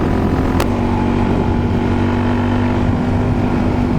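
A Suzuki DRZ400 supermoto motorcycle drones loudly and continuously while riding, its engine roar mixed with heavy wind rush across the microphone and no clear pauses.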